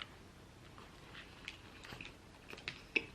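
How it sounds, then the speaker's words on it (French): A homemade donut bitten and chewed up close: faint, soft squishy chewing with a few small crunchy clicks, growing slightly louder toward the end, in a quiet room with no talking. "on va taper notre bouchée"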